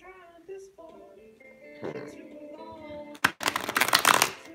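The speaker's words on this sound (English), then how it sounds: "I'm going to start shuffling these cards and getting this reading done" Tarot cards are riffled during a reading, a loud, close, rustling run of shuffles coming in after spoken talk with no gaps between them.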